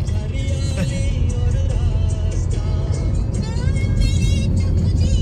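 A car drives along Mumbai's coastal road at around 80 km/h, with a loud, steady engine and road rumble heard from inside, overlaid by a continuous wash of tyre and wind noise.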